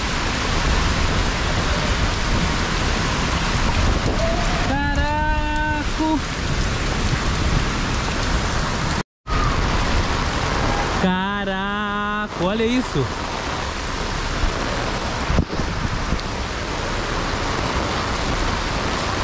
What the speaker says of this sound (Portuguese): Caraca, que chuva. Chuva de vento, família.